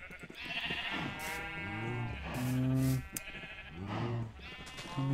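Sheep in Minecraft bleating close up, several drawn-out wavering baas in succession with no talking.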